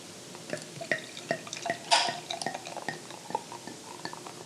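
Tree House Brewing Fall Line lager being poured into a glass filled to the brim, with soft liquid trickles, drips and faint glass clinks close by and no talk.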